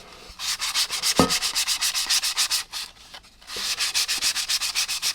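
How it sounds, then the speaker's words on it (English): Hand sanding along the edges of an MDF board, a steady run of rapid back-and-forth rubbing strokes, close and fairly loud, with a brief pause midway before the scratchy rhythm resumes. "all we're going to do is sand that all the way around"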